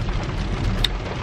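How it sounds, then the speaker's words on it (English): Steady rain falling outdoors, a dense even patter with a brief brighter drip or splash near the end, fairly close and continuous with no talk over it. "yeah, it's raining"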